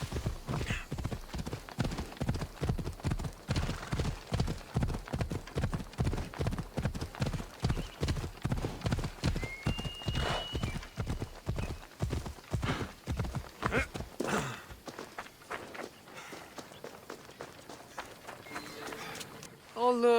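Steady clip-clop of horse hooves at a brisk gait while riding in Assassin's Creed Odyssey, loud and continuous for about fifteen seconds, then slowing; a horse whinnies near the end, and voices come and go underneath.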